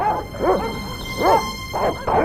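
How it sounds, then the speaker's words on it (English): Dogs in the Broken Sword: Reforged video game barking in a few quick yapping bursts, close and loud over a faint electronic hum. "All right, you dogs, I'm coming."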